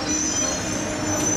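Paris metro train running on the rails with a steady, sustained high-pitched wheel squeal over a constant rumble, loud and continuous throughout.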